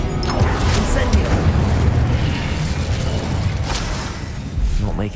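Hogwarts Legacy spell combat in a game battle: loud crackling bursts and booming blasts rolling continuously, with dense rumbling impacts and a sharper burst near the end; a voice is heard amid the noise.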